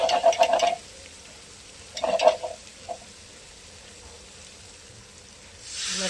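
Chicken sautéing with spices in a pan, with a few short bursts of scraping as it is stirred and a low sizzle in between, close and moderate, with a louder hiss returning at the end.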